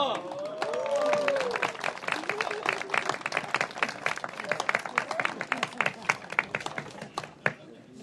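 Outdoor crowd at a medieval longsword tournament at Grunwald claps in a loose, uneven burst that thins into scattered individual claps, with voices and a rising whistle-like call heard near the start.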